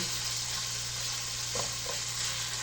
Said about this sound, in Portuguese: Colocando aqui no azeite. E aqui agora eu vou dar uma fritada, deixar fritar bem